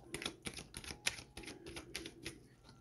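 Tarot cards being shuffled: a run of quick, papery flicking bursts in a steady rhythm, close and fairly quiet.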